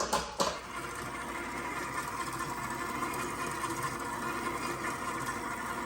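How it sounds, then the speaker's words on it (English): A stand mixer whirs steadily through waffle batter for rose waffles, a continuous mid-level motor hum with a faint rattle, beginning with a brief clunk as it starts up and holding an even drone throughout with no talk. "hook your bowl up to your stand mixer"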